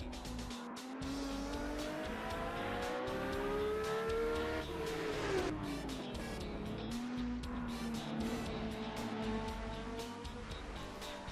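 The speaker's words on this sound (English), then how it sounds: "Not only does this 917K drive like an absolute monster in the game, it's also got one of the best sounding engines in the game" A Porsche 917K race car in Assetto Corsa on the Monaco 1966 circuit howls through its engine range, its pitch climbing and dropping through gear changes with a brief tire squeal, loud and continuous with no talk.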